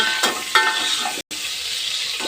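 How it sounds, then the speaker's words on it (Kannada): Mustard seeds, garlic and onion fry in hot oil for a Karnataka-style sambar base, giving a steady close sizzle with a few stir scrapes and a brief dropout midway; no one speaks. "ಸ್ವಲ್ಪ ಸಾಸಿವೆ, ಬೆಳ್ಳುಳ್ಳಿ, ಎಣ್ಣೆ, ಈರುಳ್ಳಿ ಹಾಕಿ ಫ್ರೈ ಮಾಡ್ತಾಯಿದ್ದೀವಿ"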